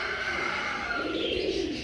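Pigeons coo softly in a room where they are being trained to come and go before moving out to a rooftop, a steady low murmur running throughout with faint chirpy overtones.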